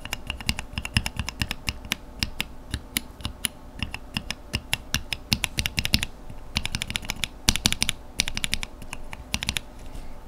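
Rapid typing on lubed NovelKeys Cream mechanical keyboard switches, a dense run of close, crisp keystrokes with short bursts and brief pauses, no voices.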